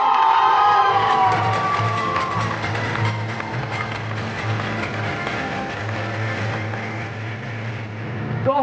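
A crowd cheers and applauds loudly at a victory celebration ceremony honouring achievers, a dense, sustained roar of clapping and shouting that fills the whole stretch over a steady low hum.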